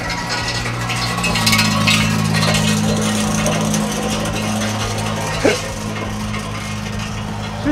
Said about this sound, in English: That lady has no muffler on her car.